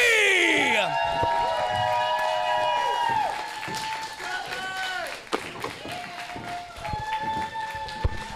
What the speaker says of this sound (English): a warm reception from this capacity crowd here at Imagine Live from the Dojo Chapter 242